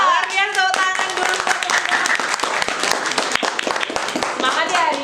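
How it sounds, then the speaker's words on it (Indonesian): An audience at a village training session claps, sharp dense hand claps that build into steady applause, close and loud, with voices mixed in among the clapping. "Kalian tepuk tangan dulu."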